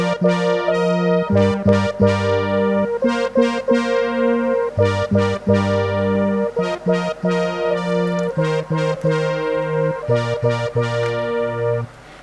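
Casio CZ-101 synthesizer playing its brass preset with added reverb, a series of long sustained chords and notes in a bright, buzzy tone, loud and close with reverb tails between phrases, no voices.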